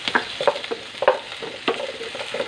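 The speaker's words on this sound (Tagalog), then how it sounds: "Pabayaan natin siya dyan magtubig at kusa siyang mag-fry" Pork kaldereta fries in a covered pan, giving off irregular close bubbling pops and spits over a low sizzling bed.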